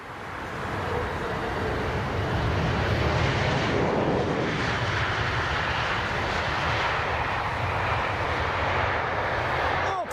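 A jet airliner approaching runway 27R at London Heathrow roars loudly and steadily as it passes close overhead, with broad engine rumble throughout.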